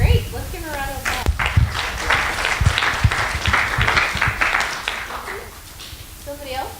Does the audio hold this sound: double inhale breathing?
no